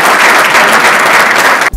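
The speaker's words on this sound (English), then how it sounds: "We're going to get a big round of applause for the extra mile." Audience applause at a Vision to Wealth coaching event: a dense, steady wash of many hands clapping, loud and close, cut off abruptly at the very end.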